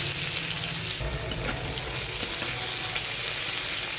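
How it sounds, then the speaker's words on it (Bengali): Chopped onion fries in oil in a kadai with bay leaves, cinnamon and cardamom, giving a loud, continuous close sizzle with faint stirring scrapes underneath. "পেঁয়াজগুলো ভালো লালচে করে একটু ভেজে নেব।"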